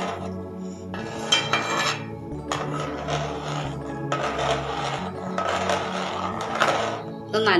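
Papaya milk payasam is stirred in a pot, a spoon scraping and knocking against the metal in repeated bursts, with a steady low hum underneath.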